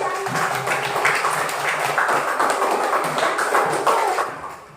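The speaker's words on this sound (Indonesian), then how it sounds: "coba tepuk tangan dulu" Children clapping their hands together in a small group, a dense patter of claps lasting several seconds before fading.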